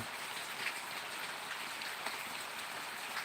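Steady rain patters on a surface, a dense continuous hiss with scattered drops, even and unbroken throughout.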